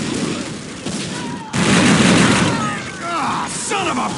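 Ballistic weapons fire in Unreal Tournament 2004, a dense, loud stream of close gunshots and booming reports, swelling into a heavy burst midway, with voices calling out over the shooting.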